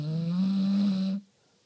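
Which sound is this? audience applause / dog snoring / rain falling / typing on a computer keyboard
dog snoring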